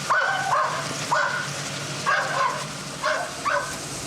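A dog barks in short sharp yips, about five or six barks spaced irregularly, close by on a city street with no talking.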